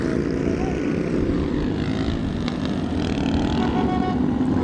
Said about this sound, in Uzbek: samolyot.